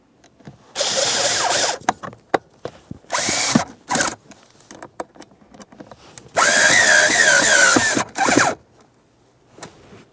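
A power drill drives screws into plastic while installing a blower motor resistor on a 2007-2017 Jeep Patriot, with several loud bursts of whirring, the longest near the end, separated by short clicks and handling noises.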